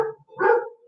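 A dog barks once in a movie scene, a short, moderately loud bark after a brief quieter yelp, heard alone.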